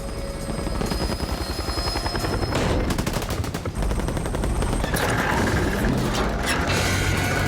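Movie scene from The Losers with loud, sustained rapid automatic gunfire in dense rattling bursts, mixed with mechanical clatter and a heavy rotor-like drone, continuous and close throughout.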